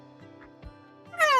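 A cat meows in the Arknights video game: a short, clear meow near the end, preceded by soft game tones and faint taps.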